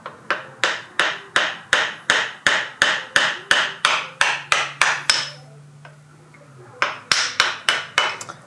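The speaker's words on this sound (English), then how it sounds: "This little homemade hammer that I'm using" Rapid, sharp metallic taps from a hammer striking a screwdriver to remove a Subaru Outback axle seal, a steady run of about twenty blows, a pause with a low hum, then more taps.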